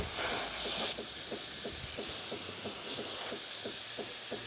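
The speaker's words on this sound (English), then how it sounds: "Great, great steam." A Saeco espresso machine's steam wand releases a steady, strong hiss of steam, with faint rhythmic pulsing underneath. No one speaks.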